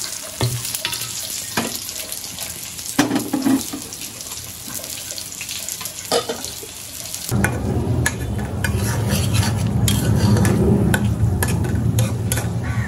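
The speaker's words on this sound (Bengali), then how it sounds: "মাছ ভাজা হয়ে গেছে, এখন নামায় ফেলি" Fish sizzling as it fries in a pan while halim is being prepared for iftar, a steady crackle that grows louder and denser partway through, mixed with clinks and scraping, no talk.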